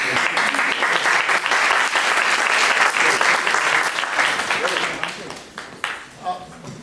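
A large audience claps at a Lionel Richie talk at Harvard, a dense, sustained roar of applause that gradually thins and fades toward the end.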